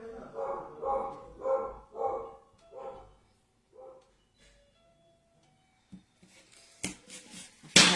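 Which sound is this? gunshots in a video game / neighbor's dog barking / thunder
neighbor's dog barking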